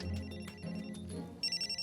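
A mobile phone ringtone plays alone with a musical, pulsing tone that ends in a run of repeated high beeps, close and clear.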